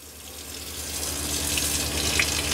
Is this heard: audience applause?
no